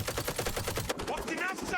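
Rapid automatic gunfire in House of Ashes, about a dozen evenly spaced loud shots in a fast burst that cuts off, leaving a brief echoing tail.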